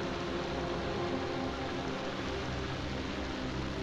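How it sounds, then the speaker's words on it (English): Steady rain in the horror game Lost in Vivo hisses evenly as a dense, unbroken downpour, pattering on surfaces at a constant moderate level with no pauses or voices. "Anything that involves rain"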